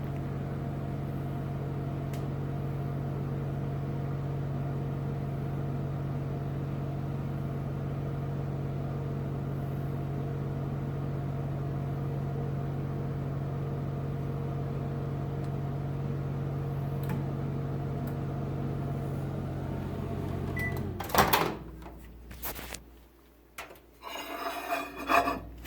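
A microwave oven runs on a low power setting while softening butter: a steady hum for about twenty seconds, then it stops with a click and a few clattering handling sounds as the door opens.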